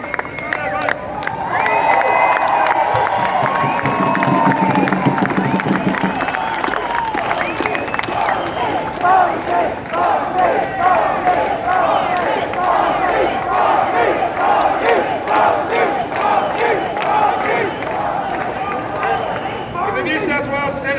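A large protest march crowd in Sydney cheers, whoops and shouts loudly and continuously, a dense wall of voices sustained throughout.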